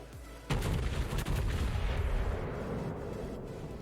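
Heavy battleship main-gun salvo in World of Warships naval combat, a sudden loud boom followed by a second blast and a long rumbling roll that fades slowly.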